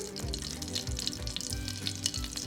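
Whole dry spices, black and green cardamom with maize flour, sizzling in hot fat for butter chicken, a faint close crackle and fry with light stirring throughout.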